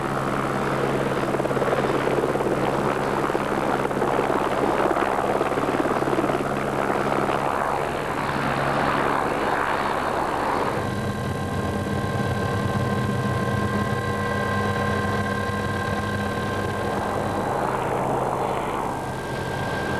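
A military helicopter from a helicopter battalion flying over the Ardennes, its loud, steady rotor thrum and engine whine continuing without a break, close and dominant throughout.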